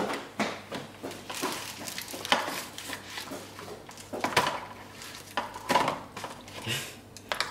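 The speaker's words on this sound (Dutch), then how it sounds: "Die bord maar op de tafel." A plate of lasagne set down on a table, with repeated clattering of crockery and cutlery in a home, close and moderately loud.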